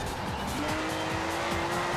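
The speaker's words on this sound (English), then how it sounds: "this car can go sideways if you go into the corner a little too hard" A Ferrari Testarossa in Forza Horizon 4 slides sideways through a corner, its engine droning steadily under a long, rising tire squeal that holds loud and close for the whole moment.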